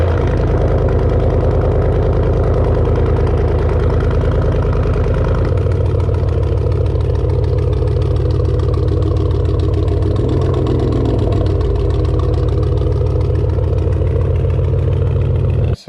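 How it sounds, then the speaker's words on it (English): Truck engine after a cold start settling into a steady, rumbling idle, close and loud throughout with a slight drop in tone partway, no voices. "Cold start inbound."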